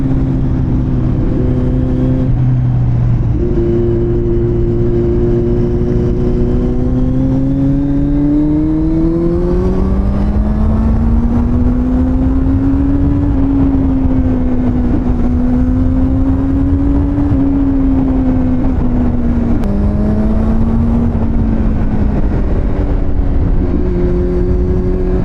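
A Kawasaki Z900 motorcycle at night, its engine loud and close as it holds a droning tone, then climbs in pitch through sustained revving and acceleration with shifts in speed, no voices over it.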